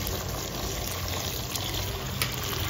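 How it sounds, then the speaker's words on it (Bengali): Hot water poured into a clay pot of mutton cooking village style, a continuous close rushing pour with a steady level throughout, no voices. "এবার গরম জল দিয়ে দেবো।"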